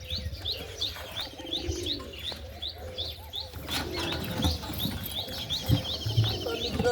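Parent pigeons and their chick at the nest, giving a run of chirps and coos close by, with occasional wing flaps and rustling, no voices.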